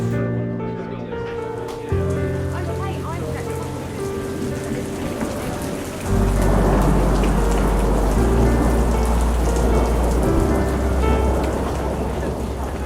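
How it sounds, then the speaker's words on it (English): Steady heavy rain pours down across an outdoor film set for a period drama, a dense close hiss that grows louder and fuller partway through, with faint voices underneath. "there's nothing we can do about the rain"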